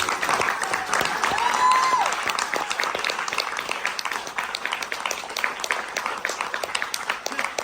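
A film festival audience applauds the filmmakers and artists after a Q&A, a continuous wash of many hands clapping at moderate distance, steady throughout with a brief tonal whistle early on.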